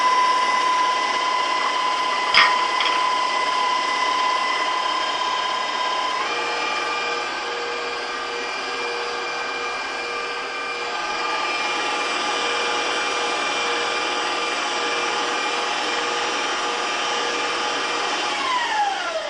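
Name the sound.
electric mixer running while mixing cupcake batter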